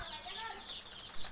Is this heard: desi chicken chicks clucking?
yes